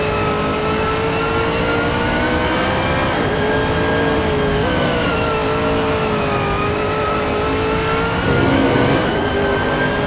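A Bentley race car in a racing video game on the Nordschleife revs hard up to its rev limiter, the engine droning loud and close with steady rising and falling pitch as gears change.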